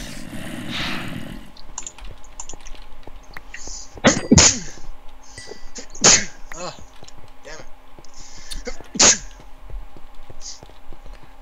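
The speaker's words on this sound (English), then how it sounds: "Stop sneezing, asshole." Someone sneezes near the start of a modded Minecraft session, followed by scattered sharp game hits and clicks.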